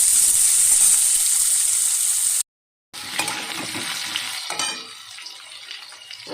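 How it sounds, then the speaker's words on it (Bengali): Potatoes sizzle steadily in a pan for a Bengali potato curry, a broad frying hiss broken by a brief silent gap and then resuming with scraping stirring and clinks, close and alone. "আলুটা ভালো করে ভেজে নেব"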